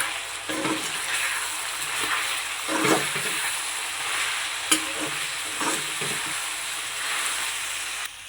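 Ginger paste and turmeric frying in hot oil with deep-fried chicken pieces for a home-style chicken curry, a continuous close sizzle broken by scraping stir strokes and one sharp clink.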